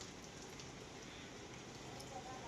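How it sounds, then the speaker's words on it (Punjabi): A sudden heavy downpour hisses as a steady, even wash of rain, faint and distant throughout with no other sounds standing out. "ਉਹ ਦੇਖੋ ਹੁਣ ਮੀਂਹ ਪਈ ਜਾਂਦਾਗਾ"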